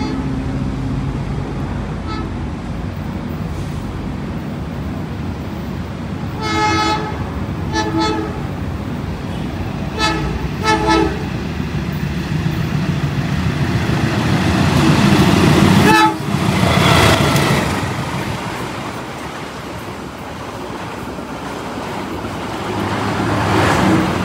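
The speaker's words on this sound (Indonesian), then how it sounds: "Oke, kereta api Logawa sudah melintas" Logawa passenger train passing near Surabaya, a continuous rumbling roll with several horn blasts in short groups midway, then a louder rushing swell as the cars go by, heard close up.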